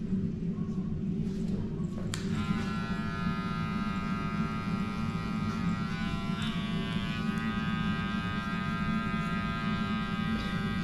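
A barber's electric trimmer buzzes steadily and loudly throughout, a close continuous motor drone with a faint whine over it as a haircut is detailed in a barbershop, with faint talk underneath.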